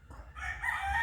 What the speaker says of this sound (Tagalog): Sa kabila maraming manok.